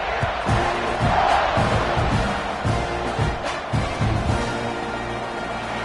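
A large stadium crowd in the College Football 26 video game roars continuously, loud and close, with rhythmic swells of chanting and cheering rising and falling.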